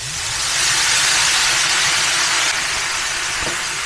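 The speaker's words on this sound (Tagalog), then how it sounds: "Add some white wine" Steady loud hiss of white wine hitting a hot risotto pan with olive oil, onions, garlic and rice, a continuous sizzle with no voices.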